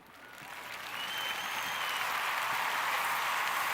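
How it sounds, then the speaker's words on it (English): Canned applause from a clap sound button during a podcast, a crowd of clapping swelling up over the first second and then holding steady and full to the end, with no voices. "Kids got me using clap buttons and all that."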